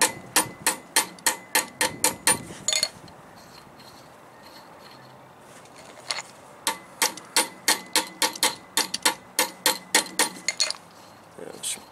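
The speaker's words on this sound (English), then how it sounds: "Here, we'll just take this hammer." A hammer taps rapidly on a parking brake chamber to clean up its threads, two bursts of about a dozen sharp metallic strikes each, close and loud with a short pause between.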